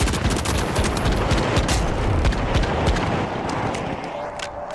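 Light SMG gunfire in a first-person video game, dense rapid bursts of shots rattling continuously and close, tapering off near the end.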